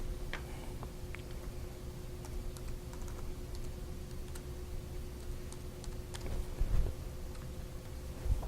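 Login credentials are tapped out on a computer keyboard at a Windows 8 machine, soft quick keystrokes clicking irregularly and close by over a low steady hum, with no talk.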